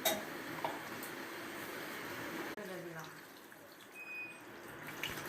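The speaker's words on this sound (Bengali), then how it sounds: "কষানো হয়ে গেছে, তারপর জল ঢেলে দেবো।" Water is poured into a pot of duck meat curry with fried potatoes, spices and chui jhal, making a soft running, splashing sound at moderate distance with a voice speaking intermittently.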